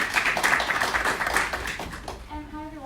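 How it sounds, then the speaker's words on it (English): Audience applause for a speaker at a business founders' masterclass event, a dense burst of clapping that fades out toward the end as a voice begins. "A big round of applause to Faye."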